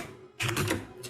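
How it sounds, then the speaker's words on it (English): Computer keyboard keys clatter as a command is typed into a Linux terminal, a short quick burst of close clicking after a brief near-silence. "So we type Xclip"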